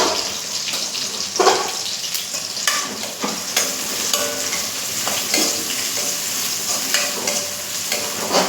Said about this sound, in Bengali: তো এবার পেঁয়াজটা দেব